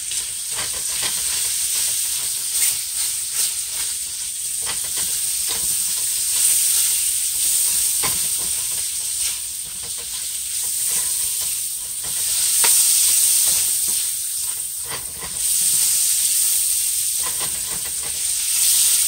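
Shrimp seasoned with Old Bay frying in a pan, a steady bright sizzle with bursts of hissing steam and occasional stirring scrapes, close and continuous.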